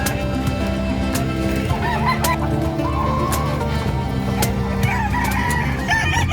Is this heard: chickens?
yes